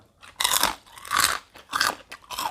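Crispy pork rinds crunched with Thai nam prik num chili dip, several loud close bursts of biting and chewing in quick uneven succession, with no talking.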